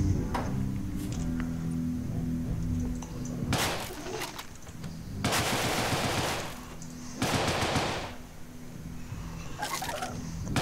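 Gunfire in the action video game Deadbolt: several short rapid bursts of shots with crackling tails over a low, steady game music bed, no talk.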